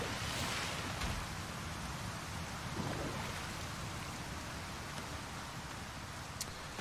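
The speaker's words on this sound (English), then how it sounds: "Building our base near waterfall and arc is a huge mistake. The water's so loud." Loud, steady roar of falling water from a waterfall beside a base in the survival game Icarus, a continuous broadband rush that fills the whole stretch with no talk over it.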